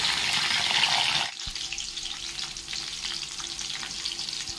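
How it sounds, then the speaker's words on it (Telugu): Okra frying in hot oil with a loud, dense sizzle that suddenly drops as curry leaves go in, then a softer steady crackle continues, close up with no voices. "ఆయిల్లో ఫ్రై చేసుకున్న తర్వాత ఇందులోకి మన కరేపాకు వేసుకుందాం"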